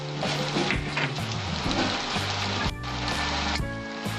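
Spice paste hits hot oil for a vegetarian papaya curry, giving a steady, dense, close-up sizzle that crackles throughout with no talking.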